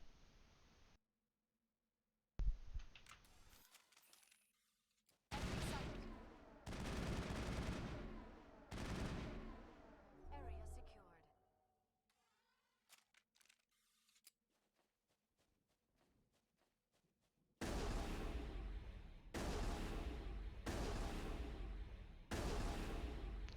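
Shotgun blasts in Mass Effect, several loud bursts in groups separated by silent gaps, each with a heavy low boom, then a longer run of repeated firing near the end.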